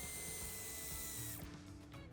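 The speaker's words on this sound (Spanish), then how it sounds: "quitando primero la tapa y después el tornillo que tenemos a continuación." A power tool backs a screw out of a plastic trim piece on a 2024 BMW X3 G45, whirring for over a second and then stopping, close and fairly quiet.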